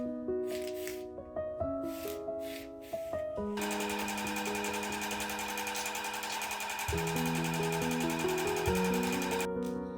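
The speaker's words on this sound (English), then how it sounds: "Pin and sew your new inseam." A home sewing machine stitches the new inseam of a pair of pants being hemmed. It starts with short stop-start bursts, then settles into a long, steady, close-up whirring run that changes pitch partway through.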